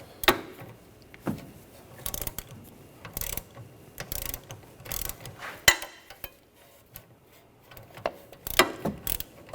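A ratchet with a 16mm socket spins a sway bar link nut off a 2009-2013 BMW 328i xDrive, its rear stud held with locking pliers. Short bursts of metallic clicking come up close and clear, with brief pauses between them and no talking.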